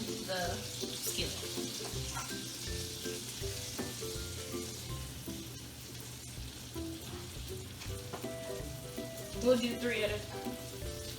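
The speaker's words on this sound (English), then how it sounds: "once your skillet is hot, you will take each roll-up and put it and lay it on the skillet" Grilled cheese roll-ups laid on a hot skillet sizzle steadily, a soft close frying hiss with small pops and pan clinks, while a person speaks briefly over it.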